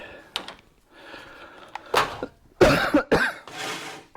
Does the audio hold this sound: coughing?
yes